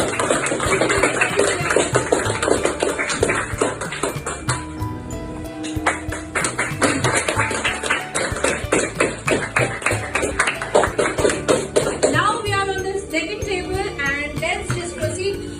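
An audience at a cultural carnival applauds after a presentation on Marwari culture with sustained, dense clapping for over ten seconds over a steady background tone, and a voice starts talking near the end.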